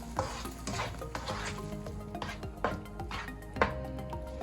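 Pasta stirred through sauce in a pan, with repeated clinks and knocks of a utensil against the pan over a low sizzle, close by and without talk.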